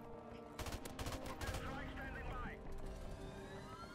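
M16 rifle gunfire in the video game Modern Warfare Remastered: rapid bursts of clustered shots in the first half, loud and sharp, over a constant game soundscape with some descending electronic tones.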